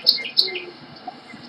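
Birdsong plays from a video embedded in a PowerPoint slideshow: two bright, short chirps in quick succession, then fainter scattered tweets against a quiet background.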